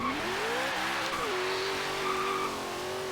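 A 2009 Chevrolet Corvette ZR1 launching in Forza Horizon 3, engine note climbing steadily through gears with a brief dip at a shift, loud and continuous for about three seconds, with faint tire noise underneath and no talking.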